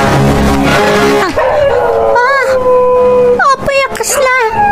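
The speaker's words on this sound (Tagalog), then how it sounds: "Jay aso ti karuba. Agsasaro matan ti panagtaguob na." A neighbor's dog howls in long, wavering rising and falling tones, loud and close, with a voice speaking over the start.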